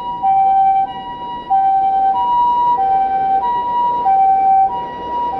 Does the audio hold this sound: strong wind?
no